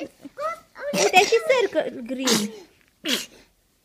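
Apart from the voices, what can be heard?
child sneezing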